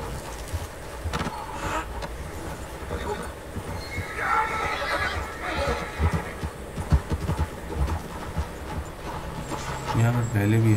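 Horse in Red Dead Redemption 2 gives a neigh amid hoof clops and ambient game noise, with someone talking over parts of the scene and a low thump near the end.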